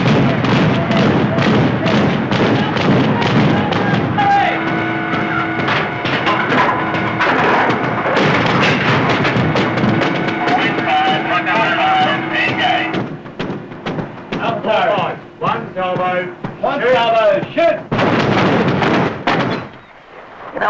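Naval guns fire in a run of heavy booms and thuds amid loud, chaotic battle noise, with tonal alarm-like sounds partway through and brief quieter gaps near the end.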